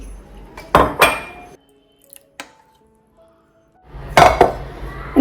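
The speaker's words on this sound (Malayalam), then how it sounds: "നന്നായിട്ടൊന്ന് മിക്സ് ചെയ്തെടുക്കുന്നുണ്ട്" Arrowroot mixture being mixed in a bowl in a home kitchen: two quick bursts of spoon-on-bowl clinks and scraping, a short quiet gap with faint knocks, then another cluster of close clattering strokes.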